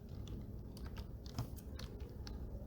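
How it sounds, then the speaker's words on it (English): Rapid, uneven clicking of computer keyboard keys as a prompt is typed, close and moderately quiet, with no voices. "I'm going to start typing"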